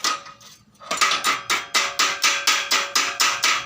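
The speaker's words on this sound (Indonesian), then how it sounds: "Kita rapikan dengan palu, kita ketok supaya kelasnya ini hilang." Hammer tapping a fresh weld bead to knock off slag: after a short quiet, about ten sharp metallic taps follow in a steady, even rhythm, close and clear with no talking.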